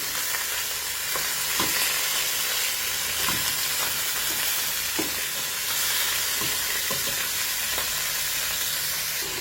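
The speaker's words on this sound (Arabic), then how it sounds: "هنا دلوقتي بقى بصوا اللحمه ابتدت ايه، اول ما حطيتها كده تتشوح" Meat sears in a pan with mastic, sending up a dense, constant sizzle close by, with faint spatula scrapes and taps recurring throughout and no talking.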